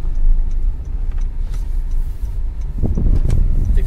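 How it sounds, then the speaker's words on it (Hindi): Honda Jazz automatic driving in drive, its engine humming steadily inside the cabin and building as it accelerates, with light ticking and road rumble throughout. "जैसा हम एक्सलेटर पे पैर रखते हैं वैसी तुरंत हमारी गाड़ी हवा से बात करती है"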